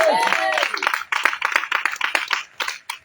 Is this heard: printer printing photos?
no